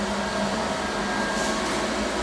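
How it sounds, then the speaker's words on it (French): An oxy-hydrogen torch machine runs up with a loud, steady, close whooshing roar and a low mechanical hum, unbroken and without speech throughout. "James, fais-nous le plaisir de démarrer la machine."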